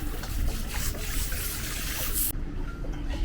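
A boat's deck shower sprays water over a sailboat's gel-coat hull, making a steady close splashing trickle that cuts off abruptly near the end, leaving quiet background noise.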